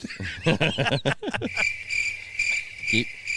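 A steady high insect trill, like crickets chirping, continues in the background after a burst of close laughter and voices at the start.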